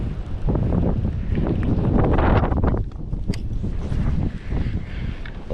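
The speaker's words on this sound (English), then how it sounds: "with the wind being as crazy as it is" Strong wind gusts over a small river during kayak fishing, buffeting the microphone with loud, continuous rumbling roar that swells and eases in waves.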